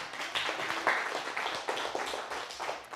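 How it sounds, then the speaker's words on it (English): A school audience gives a teacher a round of applause, a steady wash of many hands clapping at moderate distance, fairly quiet and continuous without talk. "we want to give her a round of applause"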